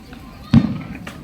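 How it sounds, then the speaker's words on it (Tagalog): Fireworks burst at a park in Dasmariñas, Cavite: one sharp, fairly close pop, then a fainter second crack about half a second later, over low outdoor background noise. "Oh, may fireworks."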